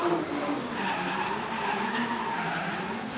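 A D1NZ pro drift car sliding sideways through the course at speed during qualifying at Tauranga, a continuous loud tire squeal layered over a roaring engine, steady and close for the whole stretch.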